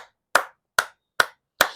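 Four sharp, evenly spaced claps ring out alone in a quiet room, roughly 0.4 seconds apart, each a crisp broadband slap with a short decay.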